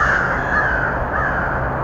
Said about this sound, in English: Wow, they're startled.